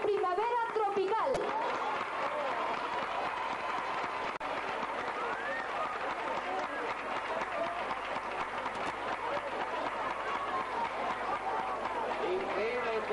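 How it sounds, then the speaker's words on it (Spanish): Audience applause at a 1987 carnival queen contest on stage, a sustained, moderately loud patter of clapping from the crowd with voices mixed in throughout. "¡Un fuerte aplauso!"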